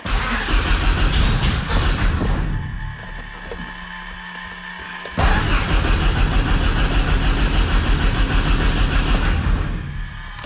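A Thorp T-18 homebuilt aircraft engine cranking loudly and close, stopping briefly, then catching and running in a steady rough roar.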